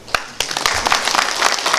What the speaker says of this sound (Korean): 다시 한번 뜨거운 박수로